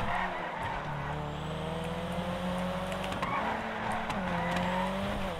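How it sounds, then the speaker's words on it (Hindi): A revving turbocharged car engine roars continuously with rising and falling pitch, joined by tire squeals, in a GTA 5 Online race. "आय हाय टर्बो साउंड, क्या मस्त आ रही है यार"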